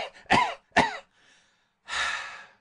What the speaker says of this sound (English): I have a cough which nearly kills me